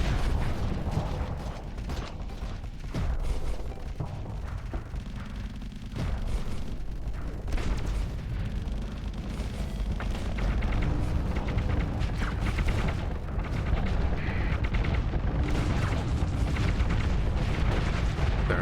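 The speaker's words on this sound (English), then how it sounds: "We'll fire torpedoes manually." Torpedoes fire in the modded space combat game Starsector amid a dense, continuous wash of booming weapon blasts and mechanical rumble, loud and sustained throughout with no talking over it.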